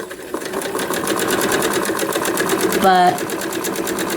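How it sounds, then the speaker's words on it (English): A sewing machine steadily stitches batik fabric with a continuous, even whir close by, while a person talks over it throughout. "this one that I'm sewing right now is a batik"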